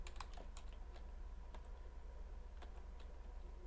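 Quiet, close typing of code on a computer keyboard, a scattered run of soft key clicks at an uneven pace over a low steady hum.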